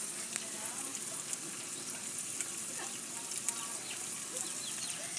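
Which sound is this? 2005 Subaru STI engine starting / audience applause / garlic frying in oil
garlic frying in oil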